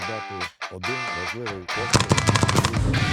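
Gunfire sounds at a military shooting training range in Germany used by Ukrainian army trainees. Someone speaks at first, then a rapid burst of close automatic shots follows.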